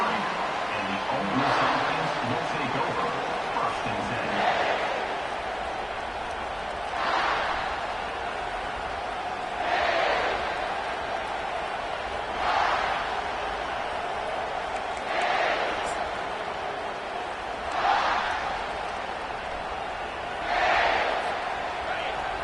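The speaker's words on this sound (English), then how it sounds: "They challenge this crowd to bring the energy, and I'd say they're doing that." A packed stadium crowd in the College Football 25 video game roars in rhythmic swells that rise about every two to three seconds over a steady background din, while commentary voices talk throughout.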